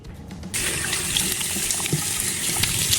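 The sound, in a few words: water running while washing off a face mask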